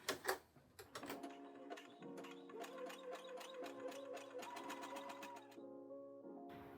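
Sewing machine running a zigzag stitch to join a lingerie elastic band, with fast, evenly spaced mechanical ticks and a humming motor heard up close and alone.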